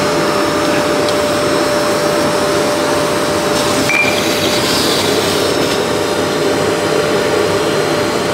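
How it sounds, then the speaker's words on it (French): A wet vacuum roars steadily and loudly as it sucks up water from an apartment floor flooded by a burst pressurized pipe, with no pause across the whole stretch. "C'est bon, tu peux aspirer l'eau."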